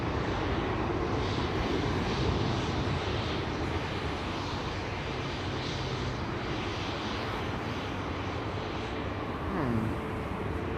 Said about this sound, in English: This is a MAX 8737 from TUI, flight 1585, on its way to Lanzarote.